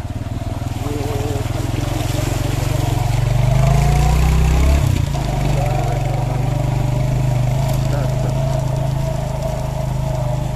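A motorbike rides through water on a mountain road from Chitral toward the Afghan border, its engine droning steadily up close with splashing and rushing water beneath, briefly shifting in pitch midway.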